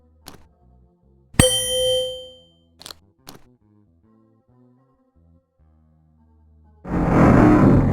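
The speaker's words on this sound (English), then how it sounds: "A musical triangle." A musical triangle struck inside a video game rings out as a bright, sustained metallic ding that slowly fades, followed by a few short clicks and then a loud rumbling rush of noise near the end.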